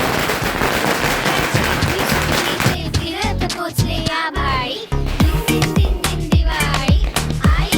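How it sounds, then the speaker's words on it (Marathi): A string of firecrackers bursts during Diwali celebrations: a loud, continuous, rapid crackle of explosions runs throughout, thinning into separate sharp pops toward the end. "आता आम्ही माळ फोडायला घेतले"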